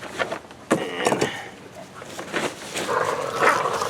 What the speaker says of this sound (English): The dogs are trying to kill each other.